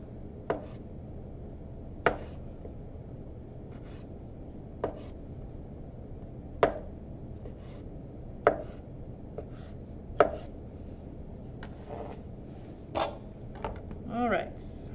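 A knife chops Kalamata olives in half on a cutting board, sharp irregular knocks about every one to two seconds, close and fairly crisp, over a low steady background hum.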